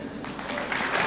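Brief burst of audience applause at a live storytelling show, a steady wash of clapping swelling slightly toward the end, moderately loud and without any talk over it.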